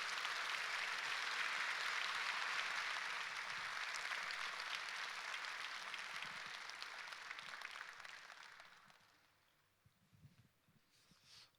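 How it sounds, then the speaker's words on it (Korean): Church congregation applauding loudly at a Sunday service to welcome Pastor Go Myeong-jin, a dense steady clapping that gradually thins and fades out toward the end. "우리 목사님 나오실 때 우리 크게 우리 한번 박수로 우리 환영하도록 하겠습니다."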